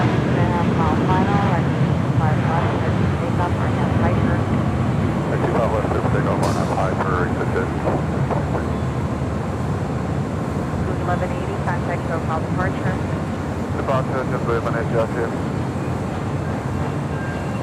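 A jet airliner takes off from a runway at LAX, its broad, steady roar filling the whole stretch while people talk over it.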